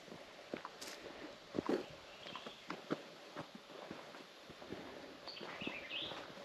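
Scattered high bird chirps ring out near the end, over crunching footsteps on leaves and twigs in a quiet forest in Oklahoma.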